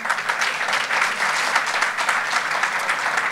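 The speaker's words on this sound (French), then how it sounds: "On peut l'applaudir aussi." Audience applause from a gathered crowd, a steady, fairly loud patter of many hands clapping continuously with no voices over it.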